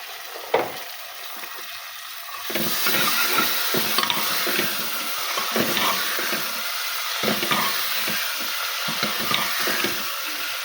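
Tomatoes tipped into a pan of fish curry set off a sudden loud sizzle that keeps frying and hissing steadily, with scraping stir sounds scattered throughout.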